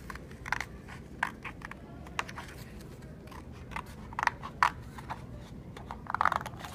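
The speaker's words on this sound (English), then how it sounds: "I'm always moving the paper and not the scissors." Scissors cutting paper nearby in short, separate snips, some in quick pairs, spaced irregularly over a quiet background.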